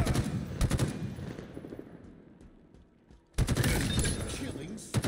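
Halo Infinite gunfire in a Tactical Slayer match: loud rapid automatic bursts, a quieter gap with scattered shots, then sustained heavy firing again, with a player speaking over it.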